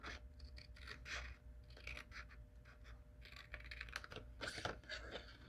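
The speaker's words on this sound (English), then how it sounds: "I can cut straight through, cut on the outside of your pencil mark." Sharp paper snips cutting through folded paper along a pencil mark, a close, quiet series of crisp snipping and rasping strokes with no talk.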